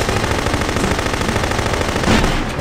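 Combat shotgun fire in the video game No One Lives Forever 2, dense and loud blasts running back to back with barely a pause, and no voices.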